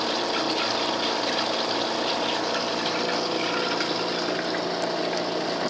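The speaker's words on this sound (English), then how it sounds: "You can see return water flowing." Return water flows through a PicoBrew Zymatic brewing machine, a steady, close pump hum mixed with a continuous gushing trickle that stays even throughout, with no voices.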